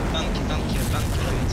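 Bomb detonation in Garry's Mod, a dense, continuous roaring blast filling the whole moment, loud and sustained with crackling debris and a voice speaking over it.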